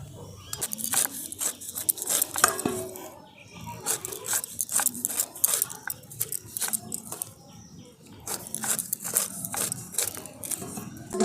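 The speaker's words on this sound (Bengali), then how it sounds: "এরপর আমি সাইডের ছালগুলো যেগুলো আছে এগুলোকে কেটে নিচ্ছি" A knife slicing the side peel off a ripe pineapple, a string of crisp, rasping cuts in an uneven rhythm, heard close with brief gaps between strokes.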